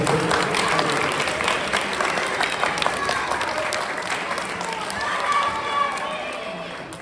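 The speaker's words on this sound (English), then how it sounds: "So let us all applaud once for the wonderful effort." Audience at a children's festival applauding teachers and children, a dense roomful of clapping that holds steady, then gradually thins and fades out.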